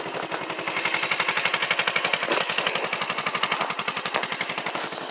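Honda ATC three-wheeler with new exhaust header and muffler idling close up, a fast, even stream of exhaust pulses that stays loud and steady, running smoothly without any ticking and with no voices.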